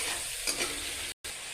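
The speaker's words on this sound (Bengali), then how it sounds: "মশলাটি ভাজা হোক, ভাজা হলে তারপর কচু ডোকাটি দিব।" Spice paste for a milk colocasia curry fries in hot oil in a pan: a steady, close sizzling hiss with a soft stirring scrape, briefly cut out near the end.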